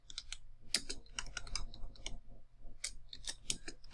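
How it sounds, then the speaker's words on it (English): Quick, irregular clicking of typing on a computer keyboard while a social media post is written, with close, crisp keystrokes arriving in short bursts and no voices. "like start typing your post out. Type this again."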